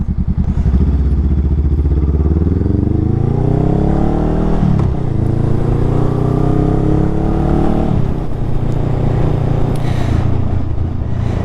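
A 2019 Honda Rebel 500 motorcycle pulling away in first gear, its engine loud and close, rising in pitch through several steady revs with a brief dip between them, under constant wind rush.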